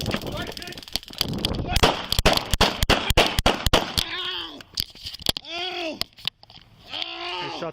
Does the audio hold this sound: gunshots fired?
yes